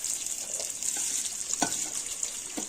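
Cumin and mustard seeds crackle and fry in hot oil for a Natu Kodi chicken curry, giving a steady bright hiss with a few soft pops and stirring clinks, moderately close and with no talking.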